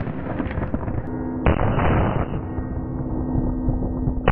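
A Combat Armory CA19 rifle fires rapid bursts of gunshots close by, sharp cracks with booming echo and a long ringing tail that carries across the stretch.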